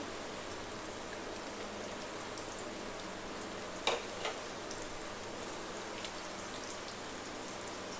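Finely chopped garlic and onion fry in oil for dal, giving a steady, even hiss with a couple of faint pops partway through, moderately quiet and without any talking.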